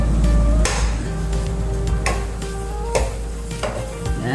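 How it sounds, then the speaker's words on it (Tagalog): Eggs being scrambled in hot oil in a pan while cooking sweet soy chicken: a steady close sizzle with repeated scraping and tapping of a utensil against the pan, no voices. "Mag-scramble tayo ng egg."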